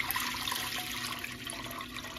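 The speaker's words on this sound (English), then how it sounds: "we're going to go ahead and pour the water into this pot" Water poured into a pot, a short steady splashing trickle throughout, fairly quiet with no voices.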